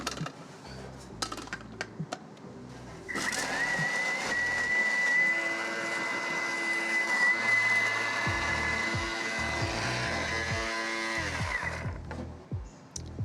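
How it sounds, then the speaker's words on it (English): A large blender whirs on after a few seconds of clattering setup, grinding sugar, salt and MSG with a loud steady motor roar for about eight seconds before winding down among knocks and handling noises. "Let's blend these up together."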